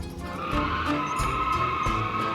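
In the BeamNG driving game, a homemade forklift-style vehicle oversteers into a corner, with a loud sustained tire squeal and skidding whine over a rumbling engine, close and continuous throughout.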